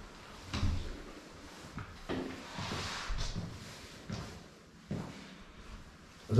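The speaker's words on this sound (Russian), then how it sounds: "Домофона нет, дверь не закрывается." The entrance door of an apartment building stairwell in England, a door that does not close properly, sounds with several loud knocks and clatters of the door swinging and bumping over faint background noise, with no talking.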